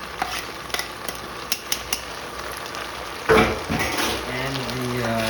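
Garlic stirred into a sizzling beef and vegetable stir fry in a hot pan, with a soft steady sizzle, faint utensil taps early on, then a louder scrape and stir before the sizzle continues.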